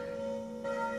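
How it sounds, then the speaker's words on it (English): A church bell rings steadily in the background, its sustained metallic tone humming continuously with no pause, moderately loud and slightly distant, with no voices. "And if you guys can hear in the background, there's a church bell"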